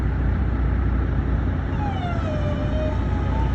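A fire service siren wails faintly in the distance, its pitch sweeping up and down over a loud, steady roar of traffic and crowd noise at a burning chicken truck.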